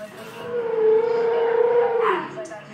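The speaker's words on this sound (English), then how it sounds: "Here's what a whale sounds like." A whale sound played from a Google smart speaker: one long, low, tonal moan that swells and holds for about two seconds before trailing off, close and fairly loud.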